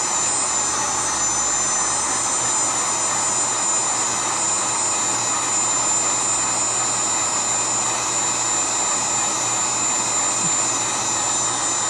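A heat gun blows steadily onto a circuit board from an intermittent unit with dried-up electrolytic capacitors. It makes a continuous, loud, even roar of rushing air with a faint hum underneath, unbroken for the whole stretch and with no voices.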